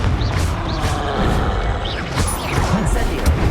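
The Confringo spell in Hogwarts Legacy detonates in a loud, dense crash with booming, whooshing debris, close and continuous over several seconds amid other combat noise.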